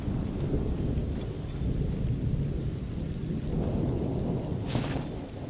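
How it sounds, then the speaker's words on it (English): Rain falling in a desert area of the video game Monsters & Memories makes a steady, dense hiss with a continuous low rumble of thunder underneath, close and constant, with no voices. "Oh, it's raining in the desert."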